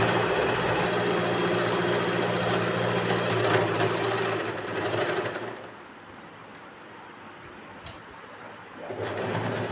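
A sewing machine runs steadily, stitching a seam on a six-panel petticoat, with a loud continuous mechanical drone for about five seconds, then a quieter pause before the motor picks up again at the end.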